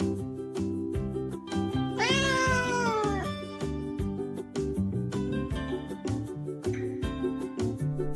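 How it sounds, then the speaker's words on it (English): A cat meows loudly and drawn-out near the start, then gives shorter meows over a steady rhythmic musical backing, with several calls in sequence. "The cat is coming out of the garage."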